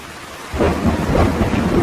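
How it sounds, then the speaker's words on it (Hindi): Heavy rain pours down steadily with deep rolling thunder in a jungle storm scene from a Hindi cartoon, starting quiet and then surging loud and dense, continuous to the end. "बारिश बहुत तेज थी।"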